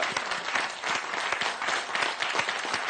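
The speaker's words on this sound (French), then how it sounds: "On va applaudir bien fort Ghislain" Studio audience applause for a game show contestant on a French Slam broadcast, a dense sustained burst of many hands clapping at moderate distance, steady throughout with no voices on top.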